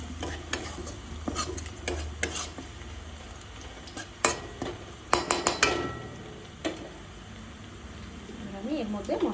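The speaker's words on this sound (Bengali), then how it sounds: "পেঁয়াজগুলো ভাজা ভাজা হয়ে এসছে" Onions frying in a pan for a bottle gourd and prawn curry, with a soft sizzle under irregular scraping and clinking stirring strokes that pick up in the middle; a faint voice comes in near the end.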